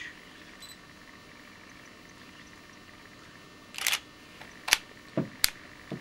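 A high-end camera fires its shutter and flash a few times, with one soft click followed by several sharp snaps close by, spaced irregularly over a quiet room background.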